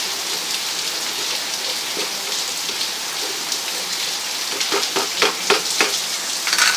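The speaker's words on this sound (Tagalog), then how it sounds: "Mula kanina, ang lakas na naman ng ulan." Steady, dense patter of heavy rain on a surface, loud and continuous, with a few sharper drips or crackles toward the end.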